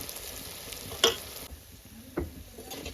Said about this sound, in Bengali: উল্টে পাল্টে পকোড়াগুলো ভাজা হয়ে গেছে